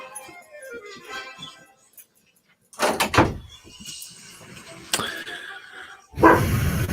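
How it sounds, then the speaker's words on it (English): A dog barking outside in bursts, with whimpers and yips, a sliding door heard between the bursts, fairly close and moderately loud, with a person talking at the start. "Oh, now he's just sit out there and bark, isn't he?"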